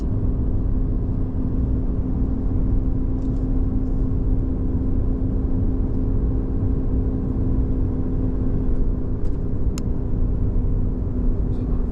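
A car rolls into the small Oregon town of Plush on the way to Hart Mountain, heard from inside as a steady low engine rumble and road drone throughout, with no talking.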